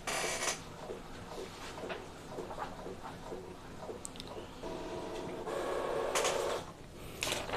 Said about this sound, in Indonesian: Kedengaran suara printernya ya.